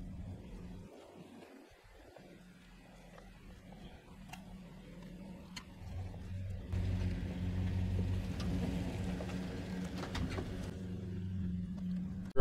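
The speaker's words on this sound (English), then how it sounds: "Driving through a wash on the trail." A van drives off-road through a sandy wash on a trail in Arches National Park, its engine rumbling low and steady, with tire crunch and rattling that grows louder and rougher in the second half.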